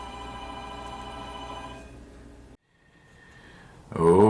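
A telephone rings in a workshop where a model ship is being built, a steady tonal ring that fades out, followed by a brief silence and then a sudden loud burst at the end.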